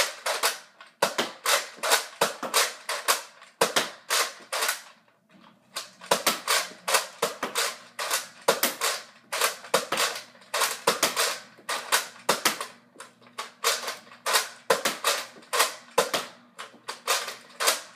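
A Nerf N-Strike Elite Retaliator blaster fires AccuStrike darts in rapid repeated shots, each a sharp plastic snap and clack of priming and release, steady rhythm with a brief pause midway, close and fairly loud, no talking.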